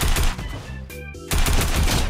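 Rapid bursts of new tactical assault rifle fire in a video game, loud and close, with a brief pause mid-clip before the shots resume; no talking.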